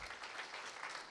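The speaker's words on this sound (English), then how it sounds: "So give a round of applause to them." A brief burst of audience applause at a development workshop, faint, steady clapping from a crowd with no voices over it.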